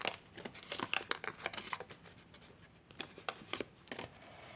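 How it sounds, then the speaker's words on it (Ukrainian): A small green paper surprise packet is torn open and unfolded up close, giving quiet, crisp crinkles and rips in short bursts with brief pauses between them. "Ось такий у нас зелений пакетик. Відкриваємо."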